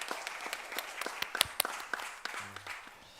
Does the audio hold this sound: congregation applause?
yes